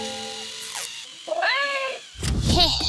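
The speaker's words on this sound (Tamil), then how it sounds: "இந்த ரோபோ பூனை கொஞ்சம் விசித்திரமாக இருக்கிறது." A robot toy cat gives a few short, odd synthetic meows in quick succession, close and fairly loud, with a clatter between calls.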